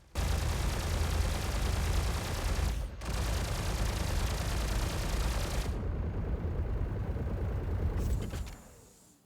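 Rapid automatic weapon fire from ships in the Star Citizen space game, a dense continuous loud barrage with a brief pause, then stopping abruptly before a faint tail.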